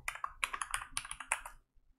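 Someone types C++ code on a computer keyboard, giving a quick run of close, crisp key clicks in an irregular rhythm that stops abruptly, followed by a moment of quiet.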